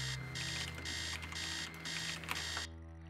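An alarm clock rings upstairs in Stories Untold, a rapid buzzing trill sounding in repeated bursts with short gaps before cutting off abruptly near the end.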